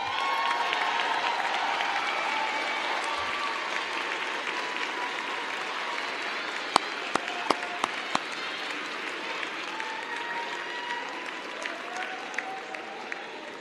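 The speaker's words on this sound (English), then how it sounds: "a round of applause." Graduating students and guests at a School of Public Health commencement ceremony give a long, steady round of applause, a broad even roar of many hands heard at moderate distance, with a few sharper claps standing out toward the end.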